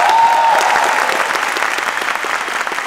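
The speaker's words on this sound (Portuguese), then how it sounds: "eu queria muitos aplausos para ele" A talk-show studio audience applauds loudly and continuously for an arriving guest, a thick even roar of clapping that tapers only slightly across the few seconds.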